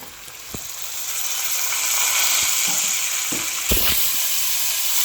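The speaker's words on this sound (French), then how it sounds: "comme ça les oignons ils vont bien frire" Onions and tomatoes fry in a pan for a beef biryani, giving a steady close sizzle that swells after the first seconds, with a few light clinks and stirring knocks along the way.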